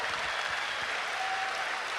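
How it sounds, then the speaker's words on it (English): Evening presentation audience applauding, a steady, dense wash of clapping from many hands filling the room throughout, with no voices over it. "Could we have a round of applause for Kent and all of our speakers here tonight"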